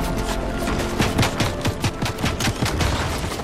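Rapid bursts of automatic gunfire in the Fortnite video game, a dense string of sharp cracks in quick succession, loud and close with no talking.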